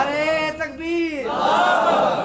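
Religious gathering at a Friday sermon in Pakistan: after the preacher's raised call, a large crowd roars back the Takbeer response in unison, a loud, sustained collective shout that swells over about two seconds.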